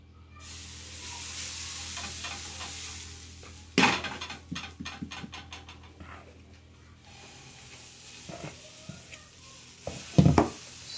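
Dosa with egg and red chili powder frying on a hot pan at home, a steady close sizzle with brief stirring and clattering of a utensil against the pan, sharper metallic knocks near the end.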